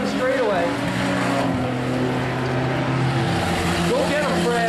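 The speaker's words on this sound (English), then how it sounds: "Glenn Hills and Carl Salt already lapped a couple of the cars as they worked their way down the straightaway." Race cars roar around a speedway during a car-on-car race, a dense blend of loud engines with rising and falling pitch as cars pass, while an announcer talks over the noise.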